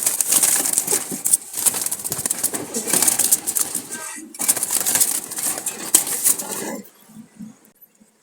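Wild Jalali pigeons stir and flutter nearby, with bursts of wing flapping and soft rustling that pause briefly midway and drop to quiet at the end.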